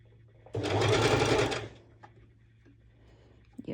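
A sewing machine runs a steady, loud burst of stitching on a wrap dress beach cover-up with a longer stitch length, starting abruptly and stopping after about a second, followed by quiet handling noises.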